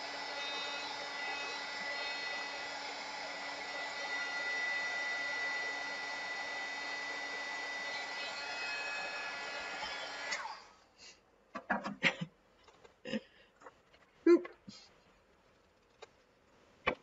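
A hair dryer blows on wet acrylic paint for a beginner reindeer painting, a loud steady whirring roar for about ten seconds that then cuts off, followed by scattered light knocks and taps.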